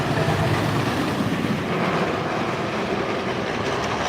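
The El Toro wooden roller coaster train at Six Flags Great Adventure roaring past close by, a loud continuous rumbling clatter of wheels on track sustained throughout.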